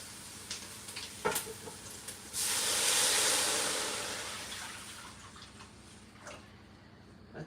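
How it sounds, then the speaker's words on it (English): Water pours into a hot pot for salmon head soup, a loud hissing rush lasting a few seconds, with sizzling as it hits the pot, then fading to quieter bubbling and light clinks. "Alright, so now guys, I'm going to add my water in."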